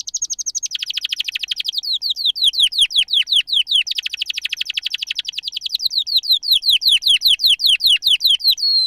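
A testosterone-treated songbird sings a rapid, organized song of repeated high trilled notes in fast rhythmic bursts, loud and close, continuing without pause.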